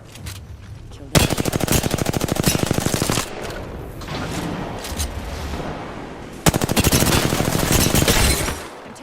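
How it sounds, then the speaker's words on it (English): Automatic gunfire in the video game Apex Legends, two loud rapid bursts of several seconds each, separated by quieter game ambience and impact sounds. "I'm taking shots."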